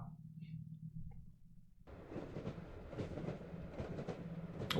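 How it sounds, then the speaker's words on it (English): A train rolls along the tracks in the horror adventure game The Last Door Season 2, starting as a sudden, steady rumble after a quiet opening and continuing loud and close to the end. "Oh, that's a train?"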